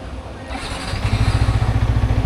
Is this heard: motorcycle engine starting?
yes